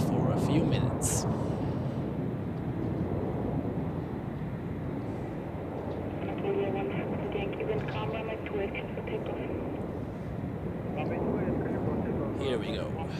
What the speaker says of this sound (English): Takeoff for AJet.